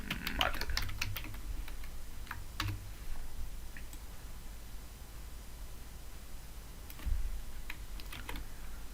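Keys clack on a computer keyboard while C# code is typed, scattered quiet taps in irregular bursts over a steady background hiss, with no talking.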